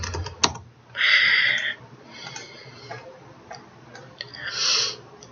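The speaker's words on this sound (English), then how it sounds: "I simply hit S on my keyboard to set a keyframe" Several sharp taps on a computer keyboard as keys are pressed while animating, scattered clicks with short clattering bursts, close and clear, with no talk.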